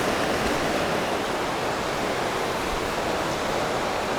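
The South Fork of the Smith River flows past Craigs Beach in a steady, broadband rush of moving water, close and continuous with no voices.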